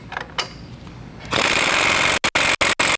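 A power tool drives the 19 mm differential bolts tight on a 2020-or-newer GM 2500 pickup during a 6.5-inch lift kit install. It comes in as a loud, close, sustained rattling burst, then a few short stuttering pulses.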